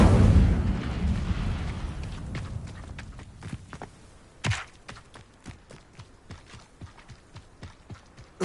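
An Incendio fire spell is cast in Hogwarts Legacy with a loud, roaring burst at the start that fades away. Soft footstep-like taps and a sharp thump follow.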